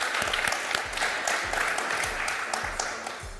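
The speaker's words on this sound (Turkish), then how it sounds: "bir alkış daha hak etti." A studio audience bursts into applause on a Turkish television comedy set, a dense burst of clapping with a few sharp claps standing out, loud and close, tapering slightly toward the end.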